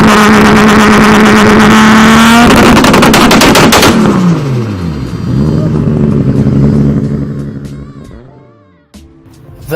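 An inline-six car engine revs loudly up close with rapid crackling pops, then winds down and fades into a quieter idle with a final short blip.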